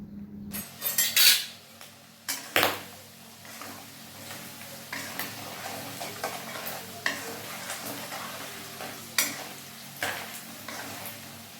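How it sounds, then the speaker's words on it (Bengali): Fried rui fish being stirred in a pan with salt and turmeric powder: repeated metal spatula scrapes and clinks against the pan over a steady frying sizzle, close and fairly loud, in irregular bursts. "ভাজা হয়ে গেলে এর মধ্যে দেব এক চামচ লবণ আর হাফ চামচ মতো হলুদ গুঁড়ো ভালোভাবে নেড়ে নেব"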